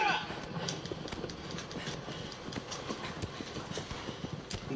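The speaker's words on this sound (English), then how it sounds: "I'm so sick of riding fucking horses in video games." Hooves clip-clop steadily while riding a horse in a video game about fighting colossi, a busy, even beat under a continuous game soundtrack, with speech present.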